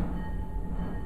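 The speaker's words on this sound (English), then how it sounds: "Here comes the train." A short train passes close by a house, giving a steady, loud broadband rumble and rattle that fills the whole moment, with no voices over it.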